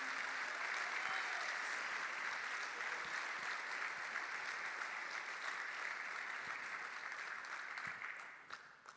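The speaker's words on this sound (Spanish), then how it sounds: "Dele un aplauso al Señor porque Él es bueno." A church congregation applauds in sustained, dense clapping that fills the space evenly for about eight seconds before thinning out and fading at the end.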